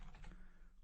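A computer keyboard clatters under quick typing, a few close, soft keystrokes in a brief burst against a steady low hum.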